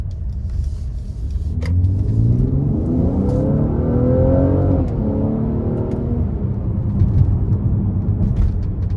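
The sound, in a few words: 2023 Mercedes-AMG GLC 43 Coupe V6 twin turbo accelerating at full throttle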